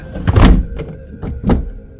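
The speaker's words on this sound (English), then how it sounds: "let's shut that door because it is boiling" A sliding door to a cruise ship suite's balcony is pulled shut, giving a few rolling thuds and a final solid clunk as it closes, close and fairly loud with no speech.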